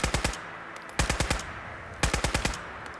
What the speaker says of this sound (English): You get a serviceable machine gun.